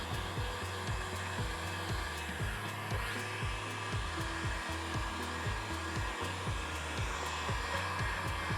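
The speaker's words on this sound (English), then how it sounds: "I have my heat gun, and I'm just gonna go ahead and start shrinking, just like normal." A handheld heat gun runs continuously, shrinking plastic film with a steady, loud blowing whir and a faint pulsing rhythm, alone with no talking.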